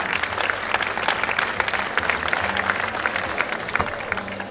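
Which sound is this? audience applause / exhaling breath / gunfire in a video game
audience applause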